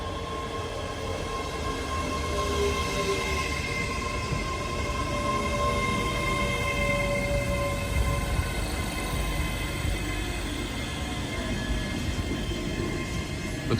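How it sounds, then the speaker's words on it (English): A ScotRail passenger train bound for Edinburgh Waverley pulling into a Scottish station, a continuous rumble of wheels and engine with faint squeals, moderately loud and steady with no talking. "And here's our train to Edinburgh, right?"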